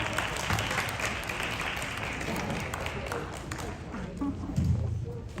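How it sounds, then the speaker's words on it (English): An outdoor Phagwah Holi celebration crowd in Queens gives applause to dancers, a dense, moderately loud clatter of clapping blended with crowd murmur and some voices. "So we'll give them a quick round of applause"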